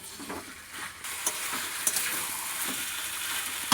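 Chicken pieces sautéing in oil with green and dried chillies and ground spices, a steady close sizzle with occasional stirring scrapes and spatters, no voices.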